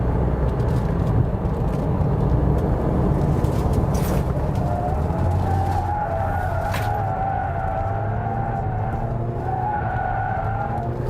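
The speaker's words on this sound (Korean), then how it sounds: "이 크루젠 프리미엄이 타이어 소리가 이렇게 일찍 또는 되게 크게 났나 싶을 정도로 소리가 굉장히 크네요" A Renault QM6 (Koleos) 2.0 diesel 4WD cornering on Kumho Crugen Premium tires lets out a loud, sustained tire squeal that wavers in pitch over a steady roar of engine and road noise, with no talking.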